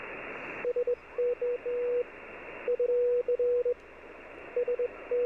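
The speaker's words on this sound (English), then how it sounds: "There's some Morse code." Morse code beeps over amateur radio on the 20 meter band, a steady tone keyed in dots and dashes in several bursts over faint static.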